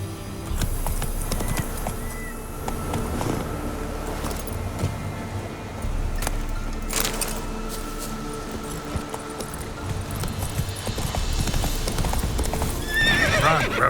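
Roach, a horse in the video game Witcher 3, gallops with rapid rhythmic hoofbeats that carry on throughout. A neigh sounds near the end over ambient game sounds.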